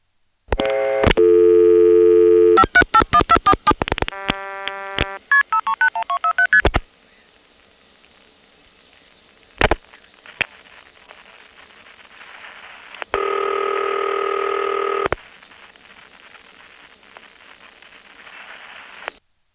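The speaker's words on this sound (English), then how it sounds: "This one has loud Occoquan MFs, but you can't hear the RP" Telephone call carrying loud Occoquan MF signaling tones: a rapid burst of multifrequency beeps and shifting tones, then clicks and line noise, then a sustained buzzy tone, all loud and close, with no talk.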